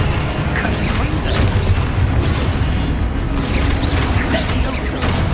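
A booming Confringo blast spell in Hogwarts Legacy bursts out amid continuous loud combat rumble, with whooshes and impacts layered through the dense battle noise.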